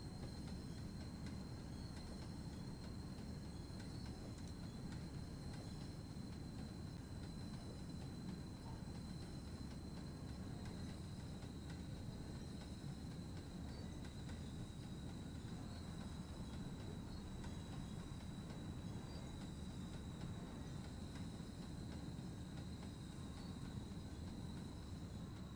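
A train passes on the Tees Valley Line between Darlington and Saltburn-by-the-Sea in Train Sim World, a faint continuous rumble of wheels on rails with a thin, steady high squeal throughout.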